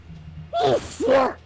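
One person sneezes close by: a sharp voiced intake followed by a louder, breathy burst, over faint background noise.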